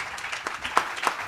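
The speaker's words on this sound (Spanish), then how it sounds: "También les pido un aplauso para ella, por favor." Light, scattered clapping from a small audience at a book presentation, greeting a young reader; a few distinct claps stand out over a soft, uneven patter, fairly quiet and without talk.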